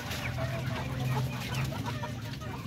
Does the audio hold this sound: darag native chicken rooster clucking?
yes